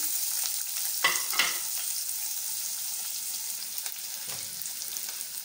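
Onion and garlic hit hot tempering oil in a kadhai, giving a steady broadband sizzle with a couple of sharp bursts as pieces drop in near the start and another spatter later, close and fairly loud.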